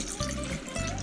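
A litre of filtered water is poured into a clear glass bowl of peanuts, a brief, close, fairly loud splashing pour lasting about a second.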